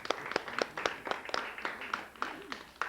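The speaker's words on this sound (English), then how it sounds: "I think that deserves a round of applause." A small audience claps at the 2005 PEGASYS Awards ceremony, sparse and uneven individual handclaps rather than a full roar, fairly quiet with a faint voice underneath.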